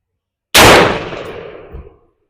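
A single sharp, loud rifle shot from a .223/5.56 Anderson AR cracks out at a target, then its echo rolls off and decays over about a second and a half, with no talk.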